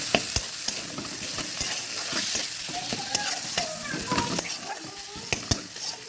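Tomato and green chillies frying in a pan, a loud, close sizzle broken by frequent sharp spatter pops and stirring scrapes, with bits of voice underneath.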